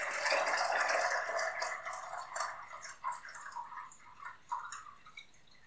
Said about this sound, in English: I'm going to fill up to a litre of water